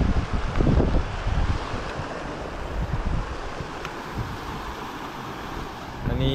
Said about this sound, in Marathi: पावसाबरोबर वाऱ्यात पण सुरुवात केला आहे मोठ्या प्रमाणात.